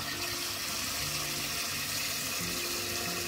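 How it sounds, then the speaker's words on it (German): Tap water runs steadily over a glass jar of pickled cucumbers being rinsed in a kitchen sink. The flow is continuous and fairly quiet, with a low hum beneath it. "Das Glas mit den Gurken mehrmals unter fließendem Wasser spülen."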